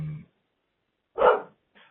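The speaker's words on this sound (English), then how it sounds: "A dog barking in the background" A dog barks in the background, giving a single sharp bark followed by a softer short yip, heard moderately close against near silence.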